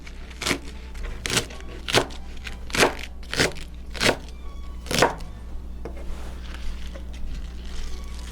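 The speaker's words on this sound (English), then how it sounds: "So dandelion greens, and let's give them a chop" A knife chops fresh dandelion greens on a board: seven crisp, close, evenly spaced cuts about a second apart, followed by softer faint scraping.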